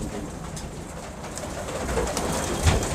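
A Jethiya pigeon coos softly at close range, a low steady murmur over a constant background hiss with no other voices.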